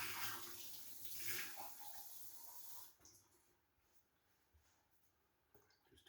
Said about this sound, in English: I'm going to add just a little bit of cool water.